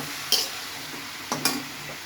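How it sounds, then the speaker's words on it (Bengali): Chopped banana flower fries in a pan with a soft steady sizzle, broken by two sharp scraping stirs close by. "এখন পরিমাণ মতো এটা ভেজে পরিমাণ মতো জল দিয়ে ঢেকে দেবো।"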